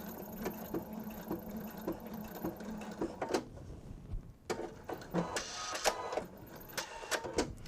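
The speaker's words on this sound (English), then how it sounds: "So a lot of times I will just keep sewing around until I get the whole area done" A sewing machine hums and stitches in steady runs while sewing a seasonal bench pillow, with brief stops, fabric shuffling and a few sharp clicks between bursts of stitching.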